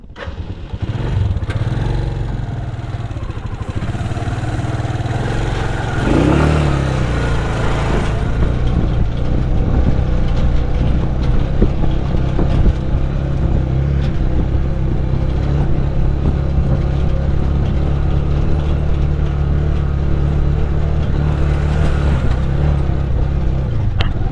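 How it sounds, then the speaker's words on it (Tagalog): A steady engine idles close by, a continuous low rumble that holds even for the whole stretch with no talking. "iniwan natin mamandar yung makina"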